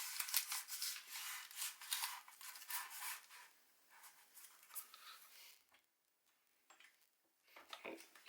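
Tape is stretched, torn and pressed onto an airsoft gun, a VFC MK48, with quick crackling rips and rubbing, close and faint, in irregular bursts.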